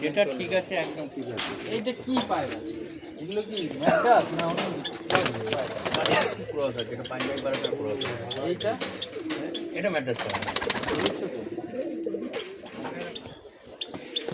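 Pigeons at a loft coo repeatedly and close by, their soft burbling calls running steadily throughout, with people talking over them at times.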